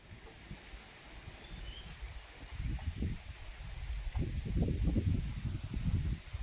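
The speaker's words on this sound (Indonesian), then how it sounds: "pergerakan anginnya lumayan kencang ya" Strong wind blowing on Mount Merapi, a steady rushing roar with louder low gusts swelling in the middle and latter part, no voices heard.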